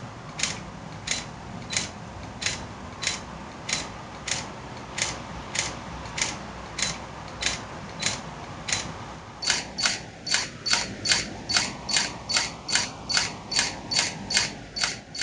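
A camera repeatedly refocusing and firing its shutter, a steady series of crisp mechanical clicks at a regular pace that speeds up into a faster, denser burst in the second half, with a faint whirring focus motor underneath.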